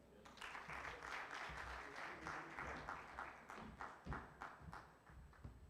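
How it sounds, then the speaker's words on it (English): Applause from an audience at a World Vision Uganda strategy event, a steady patter of clapping hands sustained for several seconds at moderate distance. "Round of applause."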